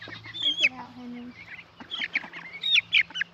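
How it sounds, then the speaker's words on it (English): Turkeys, ducks and chickens together in a homestead pen, a close mix of quacks, honks and clucks in short irregular bursts, with some people talking nearby. "it seems like the turkeys and ducks are kind of picking on the chickens"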